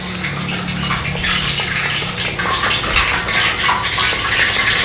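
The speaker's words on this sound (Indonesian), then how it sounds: "sekarang bumbu-bumbunya kita siram dengan air hangat ya" Warm water poured over marinade seasonings and fish sauce in a basin, a steady broadband splashing and filling rush lasting throughout, close and fairly loud with no talk.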